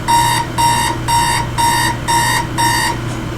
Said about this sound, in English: I woke to the sound of my alarm going off,